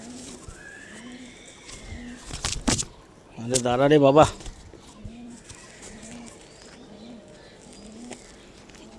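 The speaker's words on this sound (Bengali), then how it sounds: "এটা কালপেটি পায়রা" A Kalpeti pigeon coos in soft, low repeated notes close by, while someone briefly speaks and some clattering and rustling of handling sounds in the middle.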